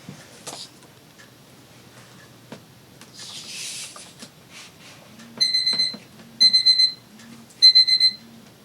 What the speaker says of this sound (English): That was my alarm to take a walk